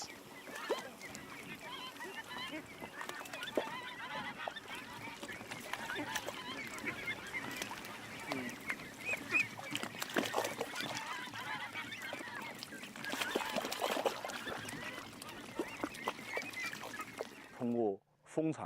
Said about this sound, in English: When the tillering comes to an end, the ducks go into the paddies to enjoy their feast of pests.